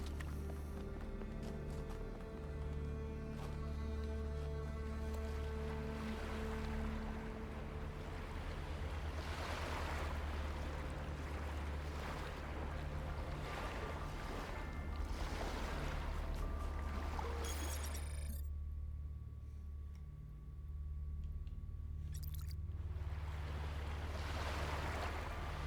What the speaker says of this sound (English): Sounds of waves when there are no waves.